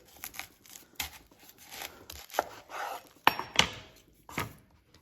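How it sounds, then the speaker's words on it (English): Kitchen knife cutting an onion in half through the root on a cutting board, a run of scattered crisp crunches and taps of the blade, close and fairly quiet, with a couple of sharper snaps near the end. "And then we want to cut the onion in half, and we want to do that through the root."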